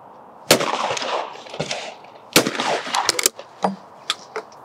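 Several sharp, loud Browning shotgun blasts fired at clay targets, irregularly spaced with two strong shots and a string of smaller cracks, each followed by a brief decaying echo.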